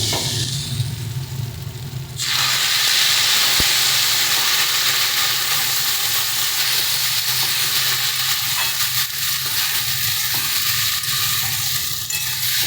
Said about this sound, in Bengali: এবার এর মধ্যে আমরা পরিমাণ মতন জল দিয়ে দিচ্ছি